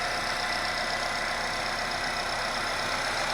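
A 2021 Jeep Wrangler JL Islander with a 2.0-liter turbo engine idles steadily while warming up before an oil change, giving a constant close hum with no talk over it.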